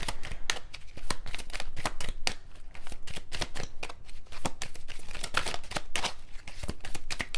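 Tarot cards being shuffled in a rapid, steady run of crisp papery riffles and flutters, close and continuous for several seconds with no talking.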